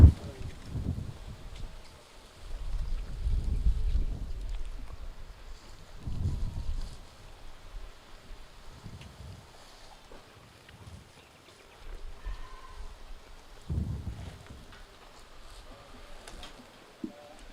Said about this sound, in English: Very breezy day here today in Bali, as you can hear.